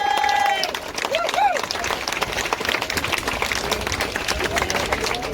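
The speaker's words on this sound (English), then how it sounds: "So give yourself a round of applause." An audience breaks into applause, a dense sustained patter of clapping with crowd noise and scattered voices carrying on for several seconds.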